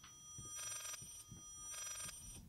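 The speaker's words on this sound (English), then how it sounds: "Is that a phone? Like a really fucked up ringtone." An odd, warbling telephone ringtone in the horror video game Layers of Fear rings in two distinct electronic bursts about a second apart, buzzy and shrill against a low muffled background.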